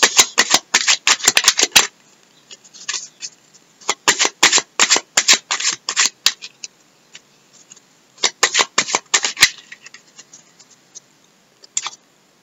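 Tarot cards being shuffled and drawn, with rapid bursts of crisp riffling and flicking in several close, loud clusters separated by short pauses.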